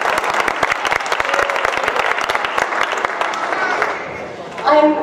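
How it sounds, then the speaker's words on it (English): Audience members at a Conifer Area Council town hall meeting clap together in a dense, steady round of applause that tapers off near the end, where a voice begins to speak. "if everybody would like to clap"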